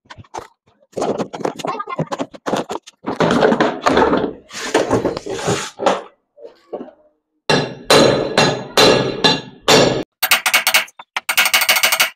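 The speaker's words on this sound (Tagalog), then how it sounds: "Bubuljakin mo yan, kuha ka ng martilyo." Repeated hammer blows strike a stiff washing machine gearbox during disassembly in irregular bursts, sharp clanging hits with short pauses between volleys, close and loud.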